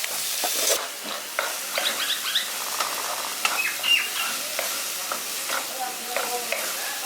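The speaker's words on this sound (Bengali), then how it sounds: "গুঁড়ো মশলাগুলো দিয়ে মশলাটা এখানে ভালো করে কষিয়ে নিয়েছি।" Ground cumin, coriander and Kashmiri chilli powder sautéing in a pan for egg masala curry: soft crackling sizzle broken by repeated scraping stirs and small clinks, close up, with brief faint voice traces.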